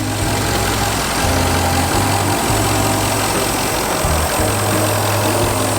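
A 4.0 liter V8 in a Jaguar XJ8 Vanden Plas idles steadily under the open hood, a close, continuous low rumble with a smooth, even hum and no talk.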